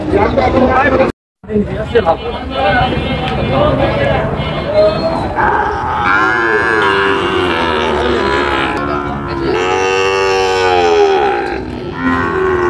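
Sahiwal bull calves moo repeatedly at a cattle market in Feni, with long, loud, drawn-out calls close by over steady crowd noise and nearby voices.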